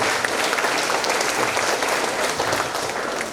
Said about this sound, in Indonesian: Kita beri aplaus dulu untuk Ibu narasumber kita pada